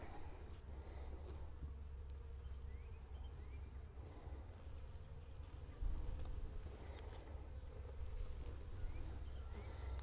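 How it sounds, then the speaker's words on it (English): Honey bees buzz softly around a hive in a bee yard, a faint continuous droning hum with light wind noise in the background. "Okay, so there's some bees right there."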